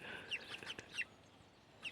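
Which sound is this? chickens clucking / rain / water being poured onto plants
chickens clucking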